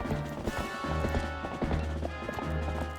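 Steady clip-clop of horse hooves at a trotting rhythm in Twilight Princess HD, mixed with a droning music or ambient background.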